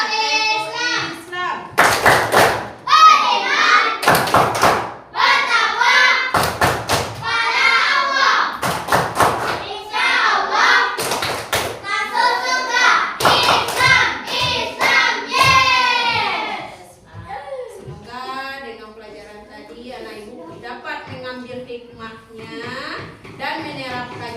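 Children in a classroom perform a rhythmic clapping chant led by a teacher, sharp loud group claps punctuating sung and shouted lines, then a stretch of talking afterward.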